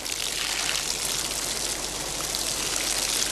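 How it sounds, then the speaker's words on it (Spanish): Cold water washing freshly dyed raw wool in an old wool mill with century-old machinery: a steady rushing, trickling water sound, moderately loud and continuous with no talking. "lava la lana con agua fría"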